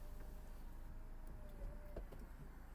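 A Renault Megane convertible's automatic roof mechanism runs with a faint, steady electric motor whine and a few small clicks and clunks, quiet and close inside the car.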